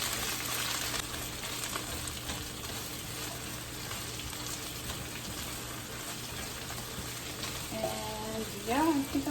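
Shrimp and spinach sizzle and fry steadily in a pan for enchiladas, a close, continuous crackle with faint stirring and a brief voice near the end.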